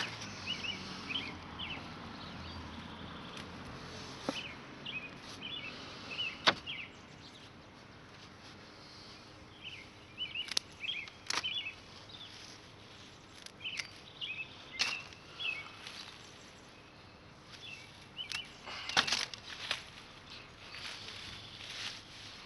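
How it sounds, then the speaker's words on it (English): Birds sing and chirp on and off throughout while herbs are being snipped, short tweets scattered over a steady quiet outdoor hum, with occasional soft rustles and knocks. "It's nice to hear the birds sing."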